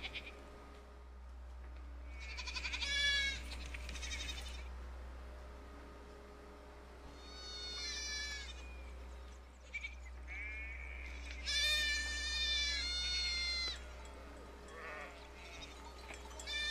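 Sheep bleat several times in wavering, nasal calls, spaced apart with quiet gaps, over a low constant hum.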